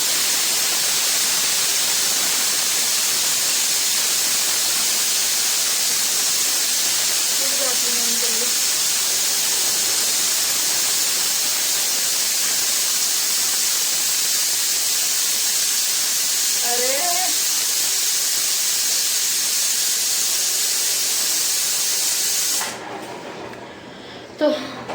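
A pressure cooker whistle releases steam as one loud, steady hiss that runs for about twenty seconds and then cuts off abruptly, with faint voices barely audible beneath it.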